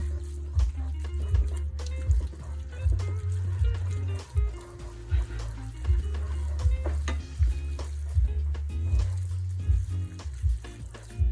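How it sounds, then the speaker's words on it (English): Pasta sauce in a pan over medium-low heat is stirred vigorously, with soft sizzling and repeated scraping strokes over a steady low hum. "you're just gonna stir it like really vigorously for a couple of minutes"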